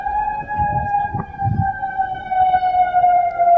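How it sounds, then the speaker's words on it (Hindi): An air raid siren wails over Qatar, a loud sustained steady tone held throughout, with some low rumbling noise underneath and no voices. "सायरन बज रहा है, लोगों से शेल्टर में रहने के लिए कहा गया है।"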